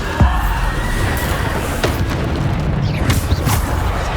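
Bombarda spell blasts in the game Hogwarts Legacy: a sharp low boom near the start, then further thumping bursts and crackling impacts amid continuous rumbling battle noise.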